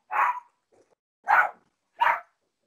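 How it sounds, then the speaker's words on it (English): A dog barks three times in separate loud, close bursts as someone knocks at the front door, with short silences between barks. "he's knocking, and my dog's going crazy"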